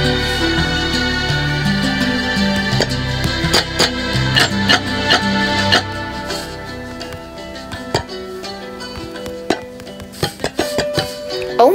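Copper grates in Minecraft being placed and broken, giving repeated metallic clinks and taps over a dense background of game music, with sharp hits scattered irregularly throughout and no talking.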